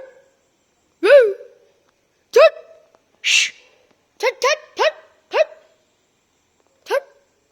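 A dangerous dog in a park barks seven or eight times in short, sharp bursts, some close together in pairs, loud and near against otherwise quiet surroundings, with no talk over it.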